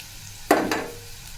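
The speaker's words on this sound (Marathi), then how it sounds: "इथं कांदा छान असं फ्राय होत आला आहे लालसर बारीक केलेली हिरवी मिरची टाकायची आहे यात" Chopped green chilli drops into onions already frying in a pan, giving a sudden loud burst of sizzle that fades over about half a second, with a second smaller surge right after.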